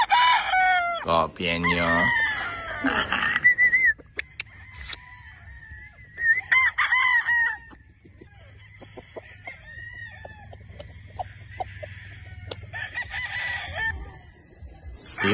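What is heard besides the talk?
gamefowl roosters, broodstags, crowing and clucking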